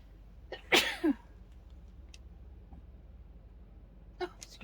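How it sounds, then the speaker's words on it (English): A single sharp sneeze from a person working on DIY stencils indoors, loud and close, with a brief follow-on burst just after, then quiet room tone and a faint rustle near the end. "I'm going to sneeze."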